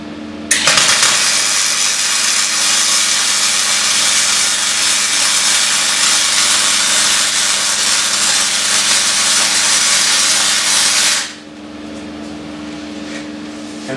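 A light duty MIG welder running gasless flux-core wire, a loud continuous crackling hiss that starts abruptly and holds steady for about ten seconds before cutting off, close up.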